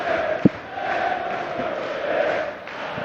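A darts crowd at the German Darts Championship in Hildesheim keeps up a steady, distant communal singing roar through the whole stretch, with one sharp knock near the start.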